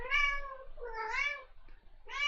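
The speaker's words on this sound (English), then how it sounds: "you do hear Embla meowing in the background" Several drawn-out cat meows, three in quick succession, sound fairly close and clear, with no talking over them.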